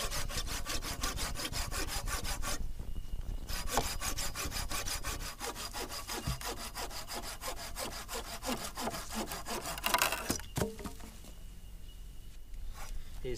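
A hand saw cutting a notch into a wooden log for a shelter frame, quick rhythmic back-and-forth rasping strokes close up, pausing briefly twice before carrying on.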